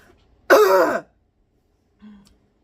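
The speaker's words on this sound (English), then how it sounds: "I just spent 2 minutes coughing." A single loud, rasping throat clear up close, followed after a pause by a brief, faint low grunt in an otherwise quiet room.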